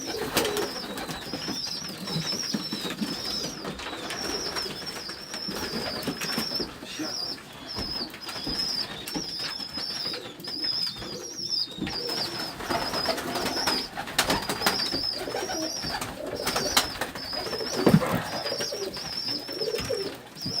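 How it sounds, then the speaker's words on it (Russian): Kurgan pigeons coo steadily in a pigeon loft in Dushanbe, with soft repeated calls close by, occasional wing flaps and rustling, and a little quiet background noise. "Это тоже наши курганские голуби."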